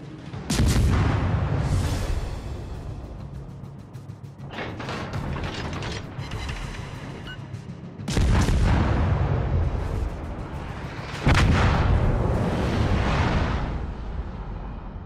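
Naval guns fire in World of Warships: Legends, loud booming salvos that roll on into long rumbling tails, with several heavy blasts spread across fifteen seconds.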